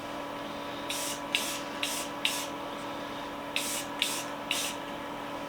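Short bursts of spray paint putting a thin coat on an old copper hammer, seven hissing puffs in two groups, each under a second, over a steady low hum.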